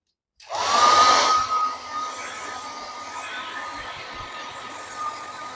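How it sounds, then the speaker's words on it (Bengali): A hair dryer switches on abruptly and blows steadily to dry a silkscreen, loudest in the first second, then settling into a constant whine and rushing hiss that continues to the end. "আমি একটু মুছে ড্রায়ার দিয়ে শুকিয়ে নেব"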